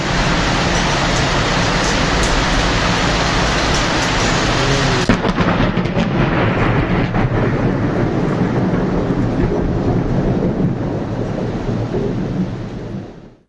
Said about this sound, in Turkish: Önce peş peşe çakan şimşekler karanlık gökyüzünü aydınlattı, ardından da sesi kenti inletti.